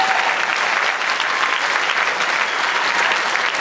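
An alumni audience claps steadily in a dense, even burst of applause that holds at a constant level throughout, fairly close and with no clear voices.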